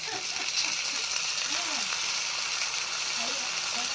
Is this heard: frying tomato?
yes